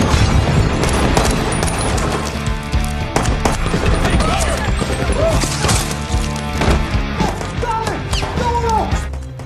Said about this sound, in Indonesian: para tentara itu pun berpihak kepada Venegas dan mulai baku tembak dengan pasukan Koe